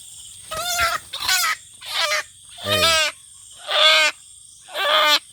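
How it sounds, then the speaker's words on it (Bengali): A wild jungle fowl caught at night in the hills squawks and clucks in six loud, close, distressed bursts separated by short pauses, over a quiet background with faint insect-like buzzing. "বন মুরগি ধরছে এটাকে আমরা খাবো"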